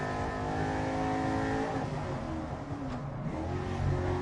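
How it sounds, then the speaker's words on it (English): An older-style car engine idles along at low throttle in a racing and drifting video game, a smooth, steady, harmonic hum close up that wavers slightly in pitch and swells a little at the end. "This car sounds really good when you're just, like, not really giving it that much gas."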